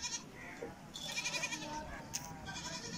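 Goats in a sale lot of ten kids bleat now and then over steady farmyard noise, with a few calls standing out near the start and middle.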